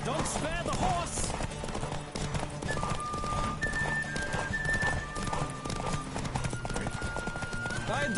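Steady galloping hoofbeats of a horse in a Witcher video game on PS4 run continuously under music and ambient noise, with a brief whinny near the start.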